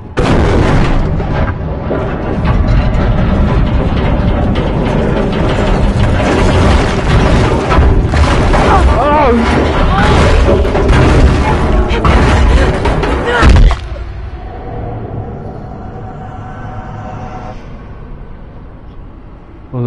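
Cannon fire in the video game Amnesia Rebirth: dense, heavy booming blasts and rumbling impacts sustained for most of the span, then dropping to a quieter low rumble and fading debris.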